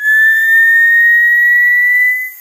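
A steady high-pitched whistle from a heating soldering tool holds one tone for about two seconds, loud and close, then cuts off quickly.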